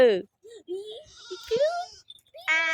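Hungry goats, one black, bleat several times in short, wavering calls, close by on a farm, with people talking between and over the cries.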